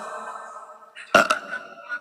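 A single short burp rises out of a quiet background, with a brief guttural rasp just after it.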